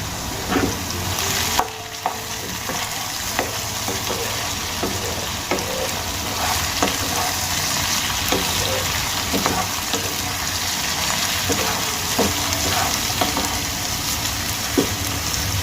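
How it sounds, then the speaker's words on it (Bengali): Potato pieces frying with a little grated ginger in a pan for a Bengali-style fish and potato dish. A steady, busy sizzle runs throughout, with scattered clicks and scrapes from stirring. No talking. "আলু খুব ভালো করে আমার ভেজে নেওয়া হয়ে গেছে"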